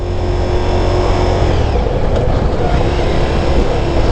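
Ducati Diavel V4 motorcycle engine lugging at low RPM in third gear, a steady, loud, low rumbling drone with constant engine tone throughout, no voices.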